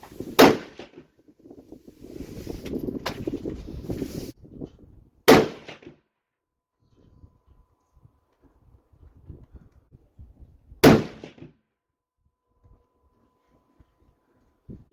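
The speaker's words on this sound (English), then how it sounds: "this is older footage of me shooting the 300 WSM" Rifle shots from a .300 WSM without a muzzle brake crack at a windy shooting range, three sharp loud reports spaced several seconds apart, with wind rumble and faint background noise between them.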